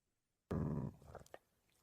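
A dog gives a sudden loud, rough growl that breaks off into a few softer snuffs and grumbles, close by and alone after a silent start.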